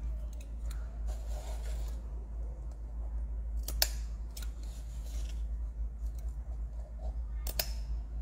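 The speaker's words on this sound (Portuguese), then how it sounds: "Deixa eu só cortar as rebarbas." Scissors trim excess edges from a handmade paper letter B, giving a few crisp, separate snips over a steady low hum, with faint rustling of the material between cuts.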